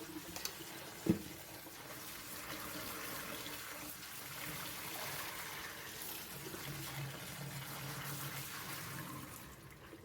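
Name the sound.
washing soaked red beans with water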